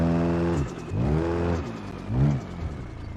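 A drift race car sweeps past several times, its engine revving and whining in rising and falling surges, close and loud with no talk.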